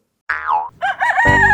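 A loud, close rooster-like crow in a couple of rising and falling bursts, sounding somewhat synthetic, ending in a sharp electronic twang.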